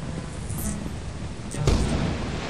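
A lightning bolt strikes in the video game Lethal Company: one sudden, loud crack and booming rumble midway through, rising over a steady low background roar and then trailing off.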